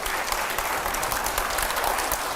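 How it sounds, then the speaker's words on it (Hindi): A seated audience claps steadily and fairly loudly for about two seconds during a question-and-answer discussion, with a dense patter of hands and no speech. "जोरदार तालियां"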